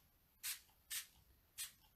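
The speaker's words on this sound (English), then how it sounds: "I'm just going to spray a bit of" A handheld spray bottle mists water onto a Brusho watercolour painting in three short, sharp hissing bursts, the first two close together and the third after a longer pause, in a quiet room.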